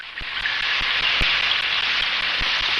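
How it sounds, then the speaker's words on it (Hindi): Steady rain falls outdoors in a continuous dense hiss, with sharp drips or drops striking a surface at irregular intervals; no one speaks. "बाहर बारिश हो रही है,"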